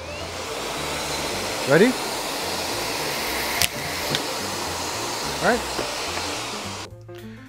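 A vacuum cleaner runs steadily for an airflow demonstration, a constant broadband whoosh under brief speech, with a couple of short swishing sweeps, before cutting off abruptly near the end.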